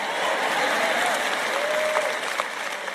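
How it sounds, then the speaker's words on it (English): Audience applause at a talk on unrealistic expectations, a steady wash of clapping running the full length at moderate level, with faint voices mixed into the crowd noise. "When you talk like this, sometimes the women clap, sometimes the men clap."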